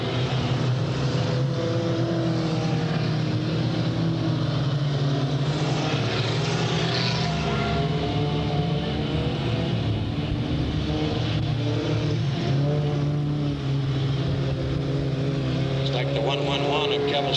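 Race cars racing at Delta Speedway in 1998, a loud continuous roar of engines with rising and falling revving tones, under a track announcer's commentary.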